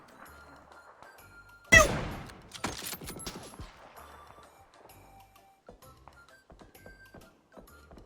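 A sudden loud burst of rapid gunfire in the battle-royale game PUBG, followed by a few fainter scattered shots and small clicks against a quiet background.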